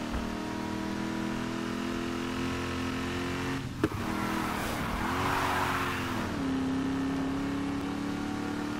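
A car in the racing game Need for Speed Heat drives on, its engine droning steadily and rising in a revving surge, with a sharp thump partway through and no voices.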